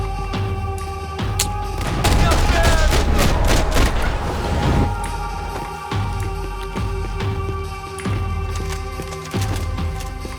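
Heavy gunfire in Max Payne 3 during a shootout, dense bursts of shots and booms packed tightly through the middle, then sparser single reports and impacts against a steady game hum.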